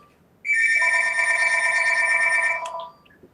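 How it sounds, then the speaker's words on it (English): A telephone rings during a symposium lecture, one continuous electronic ring of about two and a half seconds that sounds loud and close, with no speech over it. "Excuse the phone."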